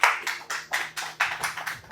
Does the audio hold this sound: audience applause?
yes